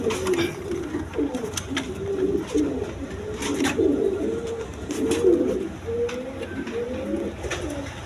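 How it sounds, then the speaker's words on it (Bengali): A pair of Rajgolla pigeons coo continuously at close range, their low, rolling calls repeating in steady phrases over light background noise. "দর্শকবৃন্দ এখানে এক পেয়ার কবুতর আছে।"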